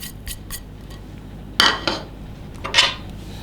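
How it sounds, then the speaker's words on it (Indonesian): A utensil stirs a dry seasoning mix of salt, broth powder and ground pepper in a bowl. A few light clinks come first, then louder scraping strokes arrive in bursts. No one speaks. "aduk sampai tercampur rata"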